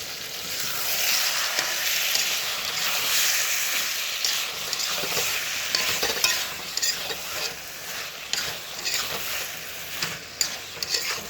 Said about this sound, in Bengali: তরকারিটা আমার হয়ে এসেছে, এবারে একটু নেড়ে নেবো